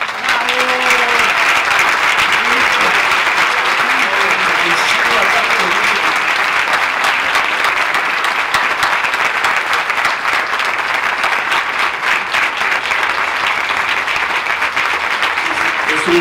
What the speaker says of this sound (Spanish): Es un fuerte y merecido aplauso a nuestro gran amigo, camarada, escritor de los mejores de este país, Paco Ignacio Taibo II